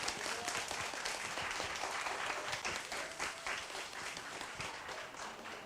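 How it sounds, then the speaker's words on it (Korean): Audience applause for a lecturer at the close of a talk on Silla history and Hwangnyongsa temple, a continuous wash of many hands clapping, fairly distant and even throughout. "김솔범 선생님께 큰 박수 부탁드립니다"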